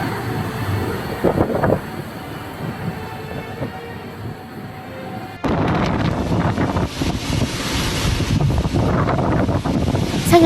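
Strong wind from Typhoon Bebinca lashes Shanghai, roaring and buffeting the microphone; the gusts swell suddenly louder halfway through and continue as a dense, close rush.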